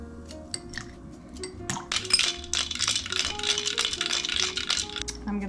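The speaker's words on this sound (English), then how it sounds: "And finally, shake it with ice." Ice rattles rapidly inside a cocktail shaker, a fast steady shaking close by that grows busier after the first second.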